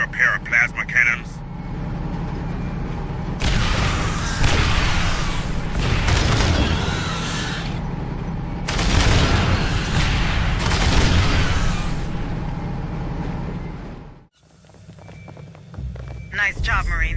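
Plasma cannons fire in the Aliens: Dark Descent video game, producing heavy booming blasts and a sustained roaring barrage in two long loud waves over a low rumble, followed by quieter ambience.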